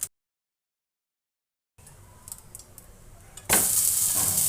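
Kulcha fries in oil in a frying pan; after a short silence, a low sizzle with small clinks builds and then jumps to a loud, steady hiss, with no voices.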